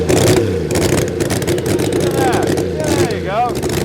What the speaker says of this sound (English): let's get a sound check unless it's too old and Spite cannot find the sound clip of this bike